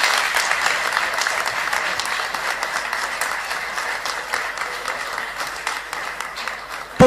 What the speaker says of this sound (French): J'appelle, sous un tonnerre d'applaudissements, Monsieur Youssef Iraqi.